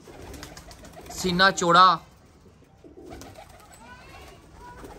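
A flying pigeon gives a close, loud burst of throaty cooing, then quieter coos follow while someone speaks over them.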